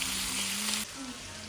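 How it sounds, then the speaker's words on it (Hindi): Potatoes that were soaked in water, drained and added to hot tempered oil sizzle steadily up close, the frying hiss loud at first and then a little quieter after a short clatter. "फिर मैंने इसका पानी निकाला अच्छे से और तड़के में से छौंक दिया।"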